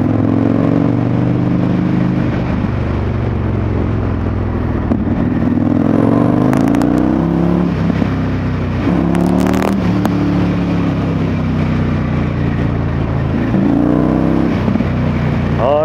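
An Indian FTR1200 motorcycle engine revs and accelerates in repeated rising surges with a throaty, rumbling tone under steady wind noise, loud and close, while a rider talks over it.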